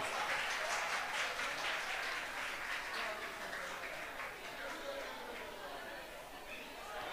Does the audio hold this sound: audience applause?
yes